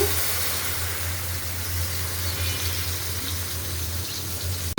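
Hot water hisses as it is poured into a frying potato curry with beans and tomatoes, a steady broadband wash over a low constant hum that runs evenly through the whole stretch.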